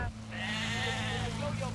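A sheep bleats in a field in one sustained, wavering call close by, with a short noise just before it.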